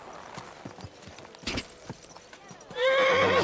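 Hooves clop unevenly on the ground in the video game Kingdom Come: Deliverance 2, then a horse gives a loud, wavering neigh close by.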